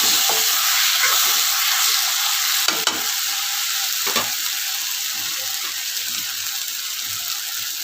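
Potatoes frying on a high gas flame while making poha, giving a loud, dense, continuous hiss of hot oil with a couple of faint knocks from stirring.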